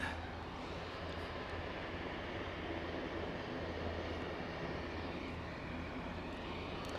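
An Eastern Airways Jetstream 41 turboprop at Aberdeen airport gives a steady, broad engine roar that holds evenly throughout, with no talk over it.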